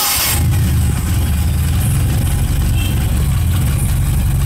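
A Suzuki Carry 1.0 engine with a newly fitted TCI ignition cranks and catches with a sharp burst, then settles into a steady, close, low idle rumble throughout, with no talk.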